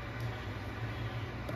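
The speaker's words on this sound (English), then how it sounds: "It's the fan on the microwave." Steady broadband whir of a kitchen microwave vent fan running close by while cooking pepper steak, with a low hum underneath and no talking.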